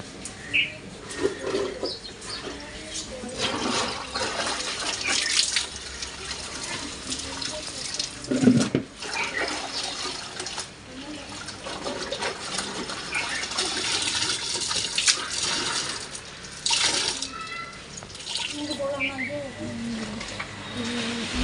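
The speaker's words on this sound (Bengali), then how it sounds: "তারপরে উপর থেকে জল নিয়ে এই যে ধুয়ে দিচ্ছি এখন" Settled well water is poured from above in splashing bursts to wash something outdoors, with intermittent trickles and drips, birds and a cooing dove audible, and a voice speaking now and then.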